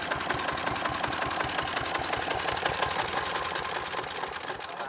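A key-start power tiller engine running steadily, with a rapid, even mechanical chugging and knocking close by that holds without pause and eases slightly toward the end; no voices.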